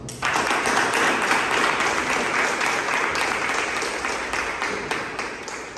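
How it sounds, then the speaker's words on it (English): Sustained audience applause at a Toastmasters club meeting greets the Toastmaster of the day, a dense, steady wash of many hands clapping that starts abruptly and fades slightly toward the end. "let's invite with a huge round of applause, Toastmaster of the day"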